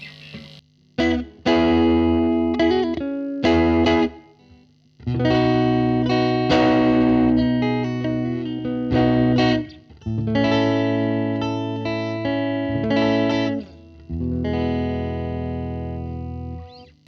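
Electric guitar played through a Fender Bassbreaker 007 Limited Edition tube amp with the master volume on 10 and the gain around 2: loud, overdriven chords and riffs in bursts with short pauses, ringing sustain and no talking.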